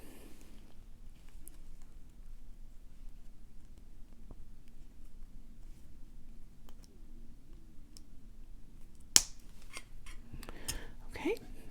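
Wire cutters snip the wire of a wire-wrapped necklace. One sharp, faint close snip stands out among soft handling clicks in a quiet room.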